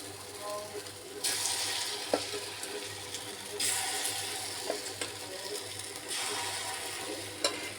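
Appe batter fries in an appe pan over a low gas flame, giving a steady soft sizzle with bursts of louder hissing that rise and fade every few seconds, plus occasional small clicks and taps.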